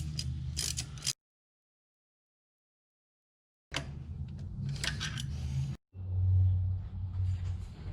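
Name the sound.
tightening exhaust manifold bolts on a 1986 Mustang SVO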